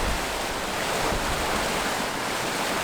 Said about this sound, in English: This footage was taken while the river was still fairly high.